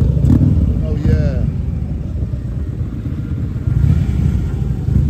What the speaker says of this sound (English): Look at these bikes.